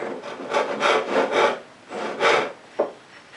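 A frame saw cuts through wood in a series of steady rasping strokes, rhythmic push-and-pull passes that end with a short sharp snap as the cut finishes.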